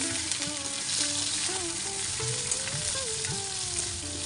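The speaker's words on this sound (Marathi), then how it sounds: "छान फ्राय करायचे" Soybean chunks fry in hot oil with a spice paste in a pan, giving a loud, steady sizzle that runs throughout, with faint stirring scrapes and a tonal hum beneath it.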